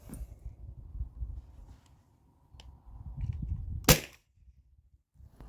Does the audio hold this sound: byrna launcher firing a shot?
yes